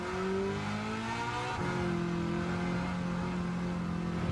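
A Chevrolet Hellcat's engine in a racing video game holds a loud, steady roar with smooth rising pitch, then briefly dips as it shifts and settles back into a sustained drone.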